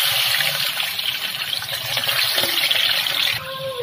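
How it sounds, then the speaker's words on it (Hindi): Chicken goes into hot oil in a karahi and sizzles with a steady, loud, close hiss that holds for a few seconds and eases slightly near the end. "देखिए, हमारा ऑयल अच्छी तरह से गर्म हो गया है। तो हम इसमें डायरेक्ट चिकन डालेंगे।"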